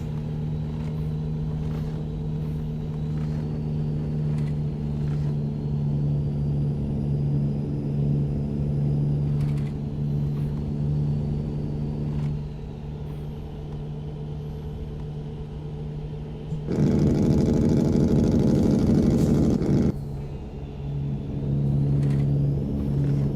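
A Volvo VNL truck engine in American Truck Simulator drones steadily at a low idle-like hum, with a louder, brighter burst of revving and road noise partway through before settling back.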